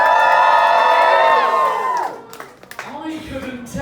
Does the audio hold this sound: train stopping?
no